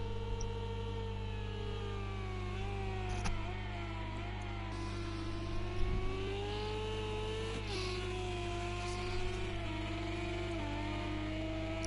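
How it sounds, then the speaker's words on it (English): A French touring race car engine drones at high revs during an online sim race at Laguna Seca, a steady buzzing tone with slight pitch shifts and brief bumps, heard continuously with no talk. "Take a look at Joff here in his French car with the French flag."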